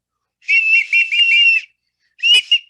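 A shrill, warbling clay bird whistle from Teotihuacán blows one long trilling note, pauses, then gives a shorter burst; close and loud.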